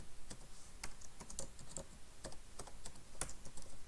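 Keys clatter on a computer keyboard in a steady run of quick, irregular taps, close and fairly quiet, with no voices.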